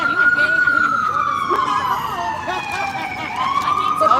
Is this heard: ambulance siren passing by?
yes